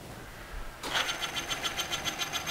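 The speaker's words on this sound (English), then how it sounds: "Now you can hear that we're in threading mode." A Hardinge HLV-H 11 x 18 inch precision toolroom lathe switched into threading mode at low speed, starting up partway through and then settling into a steady, rhythmic mechanical whir with a regular pulsing beat, close and fairly loud.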